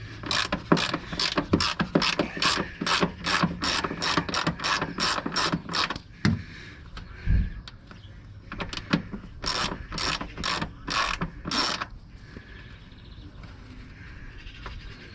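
A ratchet undoes 10mm fixings on a Range Rover L405 while a tow bar is fitted: fast runs of close, crisp clicks with short pauses, then further bursts of clicking after a quieter stretch.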